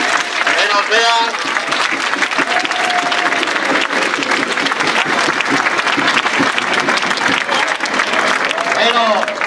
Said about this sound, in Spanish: Un fuerte aplauso al tren.